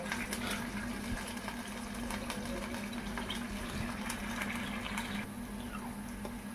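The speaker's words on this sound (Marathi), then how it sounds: "मस्त आता पाण्याला उकली आलेली आहे." Water heating to a boil in a pot for noodles, a steady rolling, bubbling rush with a low hum underneath, continuous and fairly close throughout.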